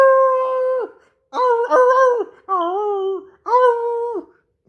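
A human voice imitates a werewolf howl in four drawn-out, wavering cries with short pauses between them, loud and close with no other sound.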